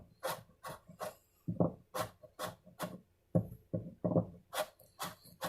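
A guitar bridge is filed by hand to cut a new bevel, producing a series of short, raspy strokes in an irregular back-and-forth rhythm, close and clear, with brief quiet gaps between passes and no talking.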